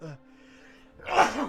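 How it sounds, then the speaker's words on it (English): A man's sneeze bursts out near the end, loud and close, after a brief quiet stretch and a short spoken word. "Sorry about the dad sneeze."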